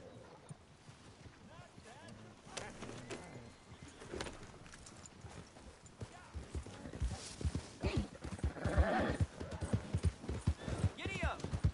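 Hooves clip-clopping as a horse is ridden in Red Dead Redemption 2, a steady galloping rhythm that grows louder and busier, with occasional whinnies and a rider's voice calling out over it.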